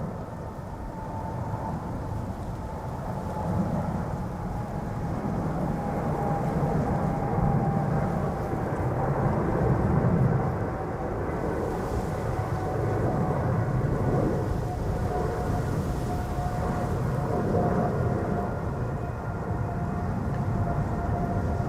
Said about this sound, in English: Also Widebody taking off from center.